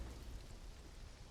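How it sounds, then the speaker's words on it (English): Steady rain falling outside in the survival game Conan Exiles, heard faintly from indoors as a continuous soft hiss with a low rumble, no talking. "you would really hear the rain coming in outside"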